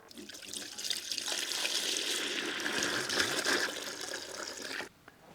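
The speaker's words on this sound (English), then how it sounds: "I'm just going to rinse it using hot water and then take a closer look at it" Hot water runs steadily into and splashes around a moped fuel tank being rinsed after a rust-remover soak, a loud, close, continuous hissing gush that stops abruptly near the end.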